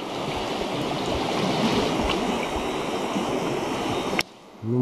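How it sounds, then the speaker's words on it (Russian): The Tirlyanka, a mountain river in spring flood, gives a dense, continuous rushing roar of fast water, loud and close. It drops away abruptly just before the end. "Горная река."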